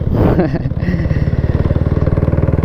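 A Honda Wave 125 motorcycle engine revs hard up close, then settles into a fast, pulsing chug with a throaty mid-range rumble throughout.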